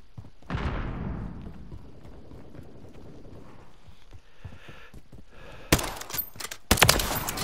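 A sniper rifle in a video game fires a few sharp, loud shots, one early and a pair of cracks near the end, separated by quieter stretches of game noise.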